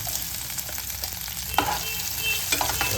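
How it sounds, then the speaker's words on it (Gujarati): Chopped onions sizzle and fry in a hot pan for a sweet corn curry, with a steady crackling hiss and a few sharp scrapes of a spoon stirring them partway through. "આમાં આપણે કાંદા ઉમેરી દઈશું."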